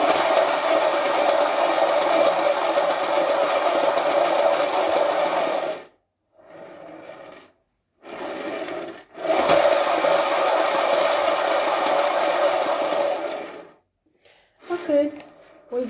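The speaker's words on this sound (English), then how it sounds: "for easy stretching, I will use this spin table." A motorized spin table whirs in a steady, loud hum that cuts out briefly a couple of times before starting up again.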